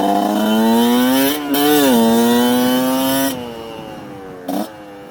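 A Kayo KT 250 two-stroke enduro motorcycle engine runs close and loud while warming up, its pitch rising and falling through a few blips of throttle, then settling to a lower idle, with no talk.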